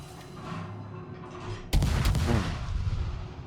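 Naval ship guns fire shells in a warship video game: a sudden heavy boom breaks in over low engine hum, followed by a rolling echoing blast and a second reverberating report.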